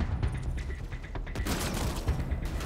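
Gunfire in the video game Mass Effect Andromeda: a dense burst of sharp shots and mechanical clatter in a busy firefight, loud and steady over a low rumble.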